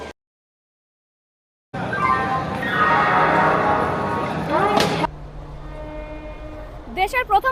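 A Vande Bharat sleeper express at platform six of Howrah station sounds a long, loud tonal horn blast of about three seconds, followed by a lower rumble, with a voice speaking briefly at the end.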